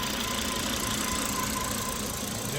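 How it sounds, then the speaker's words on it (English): A car engine idles smoothly after a fresh timing belt, water pump, tensioner and serpentine belt job, a steady low rumble close by with no voices. "the engine's just purring."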